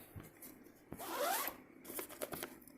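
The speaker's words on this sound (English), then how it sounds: "zipper to get to the bag" A zipper on the bag compartment of a Hoover upright commercial top-fill vacuum is pulled in a few quick, close rasping strokes, one longer than the others, with no talking.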